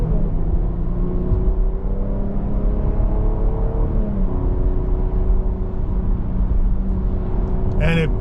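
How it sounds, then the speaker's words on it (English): A 2023 Jeep Grand Cherokee L Summit with a naturally aspirated V6 cruises on the road, giving a loud, steady cabin drone of engine hum and road rumble with rising engine tones. "we are on the road in this 2023 Grand Cherokee L"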